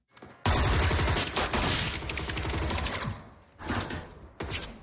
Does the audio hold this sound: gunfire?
yes